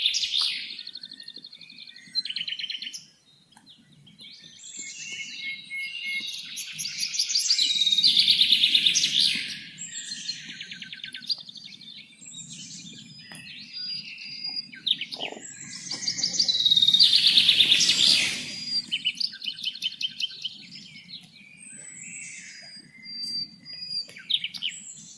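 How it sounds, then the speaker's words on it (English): Forest birds sing in bright, repeated chirping phrases and trills, with fuller bursts around the middle and toward the end over a soft low background hum, clear and fairly close with no voices. "Forest bird."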